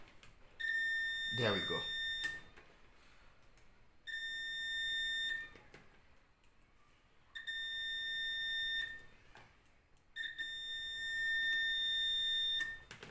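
A multimeter checking continuity on an electric motor after carbon brush replacement gives four sustained electronic beeps, each about a second or two long and separated by short pauses, with a brief spoken remark near the start.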